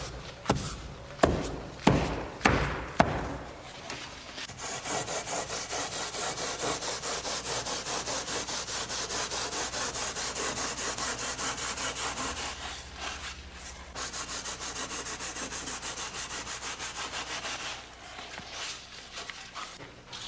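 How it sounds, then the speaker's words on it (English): Mortar mud is piled and rammed into place for a tile floor bed: a few sharp, rhythmic thumps open the clip, followed by long, steady, close scraping and rubbing. "piling up the mud and then ramming it into place"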